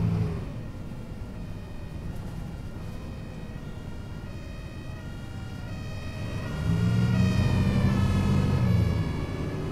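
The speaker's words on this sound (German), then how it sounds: "Da vorne ist der Krankenwagen." Ambulance siren in the OMSI 2 bus simulator game, a steady wailing tone sweeping up and down over continuous engine and road rumble, growing louder near the end.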